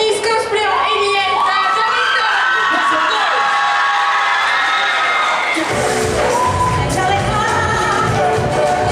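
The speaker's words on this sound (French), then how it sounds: "il faut applaudir très fort Katniss Cosplay en Alien." At a cosplay contest, voices and tonal sounds come first, then a loud, dense wave of crowd cheering, whoops and applause swells for a contestant costumed as an Alien and carries on to the end.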